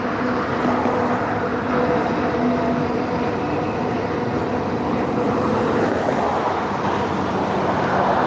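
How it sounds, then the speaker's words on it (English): A train passes heading south, a continuous broadband rumble and roar that stays steady and fairly loud for the whole stretch, with no talk. "We got another train headed south this time."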